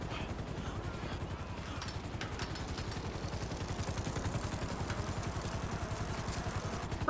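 A motorcycle engine in Grand Theft Auto V runs with a rapid, pulsing low drone that builds slightly over time, fairly quiet and steady, with no talking heard.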